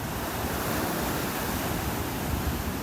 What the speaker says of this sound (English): And that makes sense with all these waves.